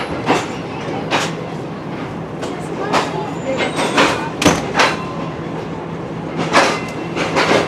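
Shalimar Express train departing a platform at Rohri station, with rumbling wheels and intermittent clacks over the tracks, steady and close, with background voices underneath.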